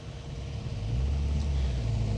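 A Vauxhall Nova rally car on a forest stage of the Phil Price Memorial Woodpecker Rally rumbles steadily with a deep, continuous engine drone, growing slightly louder midway.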